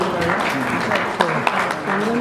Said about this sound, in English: A round of applause for Mr. C.R. Parthasarathi.